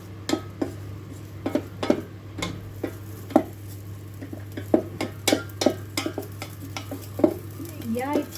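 Egg bhurji fries inside an auto-cut electric kettle with a low steady hum beneath it, as a spoon scrapes and taps the metal in quick, uneven strokes.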